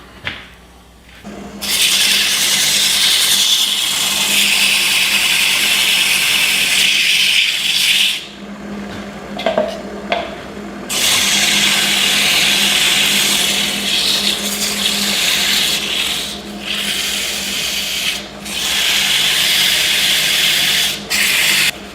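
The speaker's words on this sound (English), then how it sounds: "Okay, I'm just gonna sand it and then we'll do the top." Sandpaper rubbing against a spinning bog oak pepper mill on a wood lathe, a steady loud hissing whir with the motor hum beneath, pausing briefly twice before resuming.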